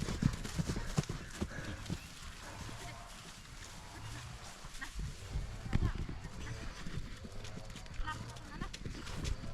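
Rapid hoofbeats of a foal galloping after its mare on soft ground, with a neigh at one point and voices talking throughout.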